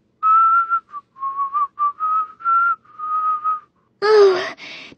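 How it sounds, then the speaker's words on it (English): A person whistles a simple tune in a series of clear, steady phrases with short pauses, then a rustling, noisy burst cuts in at the end. "began whistling"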